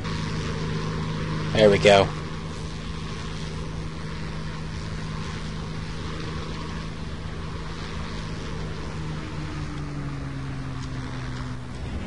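Flying boat aircraft engine in the War Thunder video game, a steady propeller drone holding through the whole stretch, with a brief louder burst early on and a short spoken remark.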